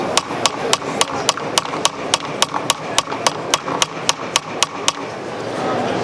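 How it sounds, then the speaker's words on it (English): Planishing hammer striking a metal bracelet to texture it, about fifteen sharp, evenly spaced metallic taps close by over a faint background murmur. "you can switch hammers and go to a planishing hammer and texture the piece and get the final refinement"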